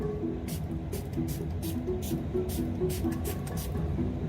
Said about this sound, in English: that spray is very generous